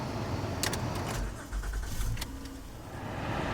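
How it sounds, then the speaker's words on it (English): A 2016 Honda Odyssey engine idles in a low, steady rumble, heard quietly from inside the vehicle with a few faint clicks and rattles. "Engine sounds like it's in pretty good shape."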